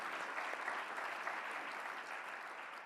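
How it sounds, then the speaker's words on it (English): A round of applause for a speaker's wife at a political event, a dense, even wash of many hands clapping from a crowd at moderate distance, steady throughout with no voices over it. "you can give her a round of applause"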